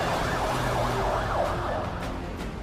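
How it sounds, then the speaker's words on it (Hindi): An ambulance siren wails in repeating rising and falling sweeps as it rushes injured people to hospital after an Israeli air strike in Lebanon, loud and close, with traffic noise underneath. "एम्बुलेंस घायलों को अस्पताल पहुंचाने के लिए दौड़ती नजर आई"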